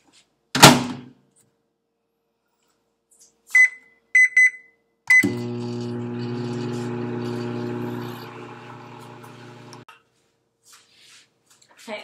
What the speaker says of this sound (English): So if you could just place it in the microwave, we'll just put it in there for about maybe like 4 minutes or so.